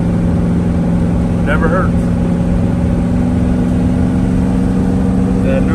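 A turbocharged Ford Foxbody Mustang engine with a new bigger turbo runs steadily, a loud, constant droning idle with a faint whistle, while someone briefly speaks over it.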